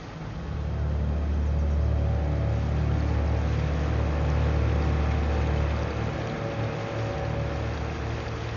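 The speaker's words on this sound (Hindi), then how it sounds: "इंजन बंद करो" A small fishing boat's engine runs steadily out on the water, a loud, close, low rumbling drone that holds nearly unchanged for several seconds with no talk.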